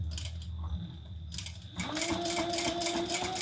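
A sewing machine fitted with a size 18 leather needle stitches leather, a quiet start and short burst before settling into a steady fast whirring hum with rapid mechanical ticking, close and continuous.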